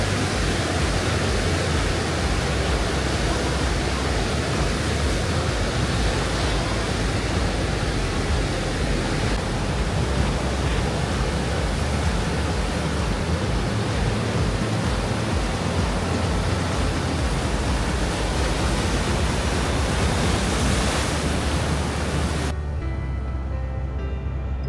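Ocean waves roll against the shore below cliffs near high tide in San Diego, a loud, continuous wash of broadband surf and wind noise that cuts off abruptly at the end.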